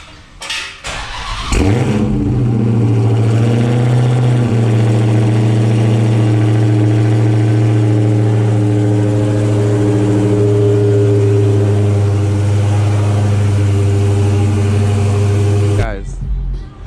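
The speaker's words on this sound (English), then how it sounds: "Cold start. And this time it shouldn't cut off because it's got no check engine light." A tuned Dodge SRT Hellcat Charger cold-starts with a sharp crank and loud catch, then settles into a deep, steady, rumbling idle heard close up for over ten seconds before cutting off.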